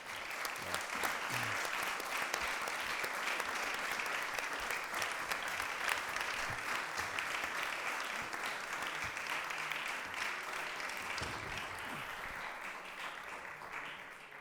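An audience at a talk on Western Sahara applauds the speaker in a long, even wash of clapping from many hands that runs without a break, fairly soft and distant, and tapers slightly near the end.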